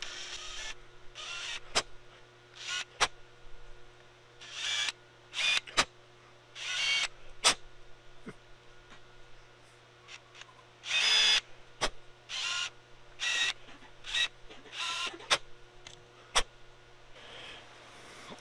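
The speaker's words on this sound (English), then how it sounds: "we're gonna take our little teeny quarter inch countersink bit in our drill, and we're just gonna hit these holes" A small drill fitted with a quarter-inch countersink bit deburring holes whirs in short repeated bursts, each a few seconds long, interspersed with sharp clicks and quiet pauses, close by.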